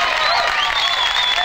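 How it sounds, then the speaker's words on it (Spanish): A crowd applauding loudly and continuously at a live acoustic radio performance, with a sustained wash of clapping and faint whistles rising over it. "¡Fuerte el aplauso!"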